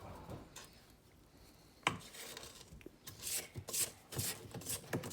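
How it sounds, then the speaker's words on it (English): A spatula scraping cookie batter off the sides of a mixing bowl, a series of soft close rubbing and scraping strokes with brief knocks and quiet pauses between them. "Then you're going to scrape down the sides of the bowl again."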